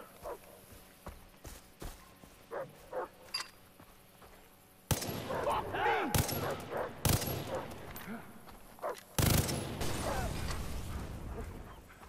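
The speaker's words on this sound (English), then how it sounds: "Shooting the cage will free the animal and stay undetected." Gunfire in the video game Far Cry 3, shooting open an animal cage: faint clicks and small pops early on, then loud bursts of gunshots with sustained chaotic game noise and several sharp shot peaks.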